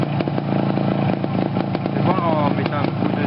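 Motorcycle engine fitted with a packed, modified silencer, running close and loud with a harsh, rattling exhaust tone and a brief rev partway through.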